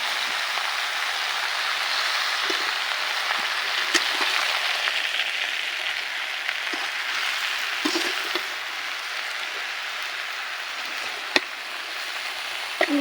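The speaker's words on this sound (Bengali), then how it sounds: "চিনি এখন আমের সঙ্গে ভালোভাবে মিশিয়ে নিতে হবে।" Sugar being mixed thoroughly into mango pieces for a sweet mango pickle, giving a steady grainy hiss and rustle with occasional small clicks and knocks, close and even throughout, with no talking.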